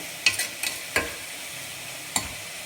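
Beetroot frying in a pan for a beetroot salna, giving a steady soft sizzle broken by a few scraping stirs of the spoon, close up with no talking.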